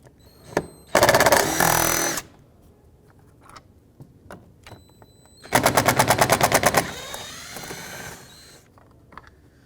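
Power tool spinning out two T30 bolts from the door of a 2006-2011 Chevrolet HHR, two loud rapid rattling bursts of about a second each, close up, separated by quiet handling clicks.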